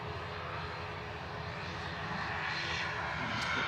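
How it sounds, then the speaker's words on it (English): A British Airways airliner taxiing at Manchester Airport, its engines a steady broad roar that swells slightly, heard from a distance with no talk. "The Geordie BA taxiing down Victor Tango, down Tango."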